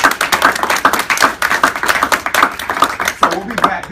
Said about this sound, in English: Clap it up, guys. Clap it up.